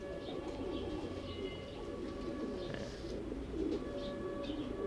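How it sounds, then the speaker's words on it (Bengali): Pigeons kept for breeding coo softly at middle distance in repeated low rolling calls, with a few faint chirps over a steady background hum. "তো এই কবুতরগুলো দিয়ে আমরা ডিম বাচ্চা করি"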